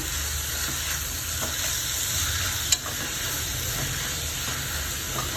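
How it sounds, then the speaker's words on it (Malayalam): Chopped shallots fry in a pan for onion chutney, giving a steady, close, dense sizzle with faint stirring and one brief sharp tick midway. "ഇനി കൊച്ചുള്ളി അരിഞ്ഞു വെച്ചതും കൂടെ ഇട്ട് കൊടുക്കാം"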